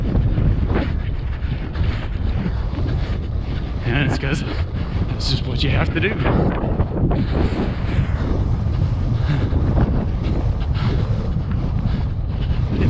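Heavy wind buffets the microphone during an outdoor run on a gusty day, a constant rough roar and thumping that persists under a runner's spoken commentary.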